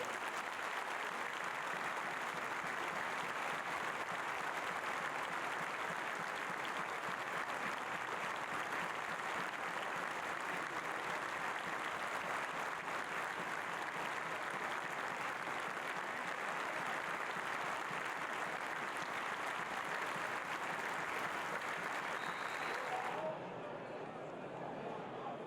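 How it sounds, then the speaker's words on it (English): A football stadium crowd at Carlisle United versus Port Vale gives a sustained minute's applause as a tribute, a steady broad roar of clapping that holds evenly before dropping away near the end. "there will be a minute's applause here before we get underway"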